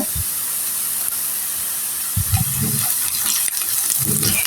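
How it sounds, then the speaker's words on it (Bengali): Whole cumin seeds hit hot oil with half-fried onions for a potato and pointed gourd fry, giving a steady broad hiss of frying with a few low stirring bumps and scrapes close by. "আমার পেঁয়াজগুলি আধা ভাজা হয়ে গেছে এখন আমি দিয়ে দিব একটু গোটা জিরা"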